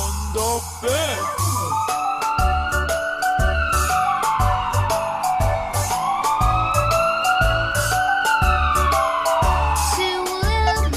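A white toy ambulance wails with a rising and falling siren that sweeps repeatedly over a loud, rhythmic children's song backing track.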